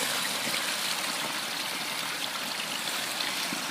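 Spring water gushing from a PVC pipe into a 3-gallon container, a continuous loud rushing pour heard up close, with no speech.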